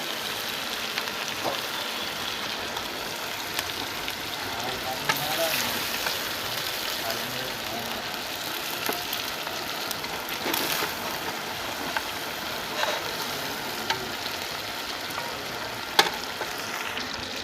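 Chicken fries in a pan with garlic, a steady hiss and crackle of hot oil running throughout with occasional sharp pops and stirring scrapes, fairly quiet and continuous.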